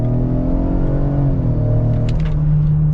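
A 2022 Ford Explorer ST-Line with the 2.3 engine accelerating hard, a loud close cabin drone climbing in pitch and rumbling, with a brief shift midway.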